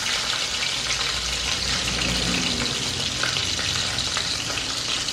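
Curry leaves and green chillies frying steadily in hot oil in a pan, a dense continuous sizzle with no pauses, close and fairly loud throughout.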